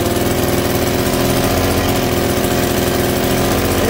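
An old two-stroke engine running steadily at idle, a loud, close, buzzing putter with an even rhythm and no speech.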